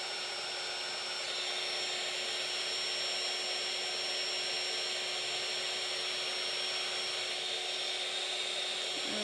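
A heat tool for embossing vellum blows hot air in a continuous, even whir and hiss that holds steady and close throughout, with no talking.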